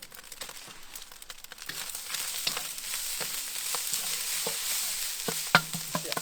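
Rice with garlic and ginger paste stir-fried on a Big Green Egg, a continuous sizzle under repeated scraping and stirring strokes, close and steady, with a few sharper clicks toward the end.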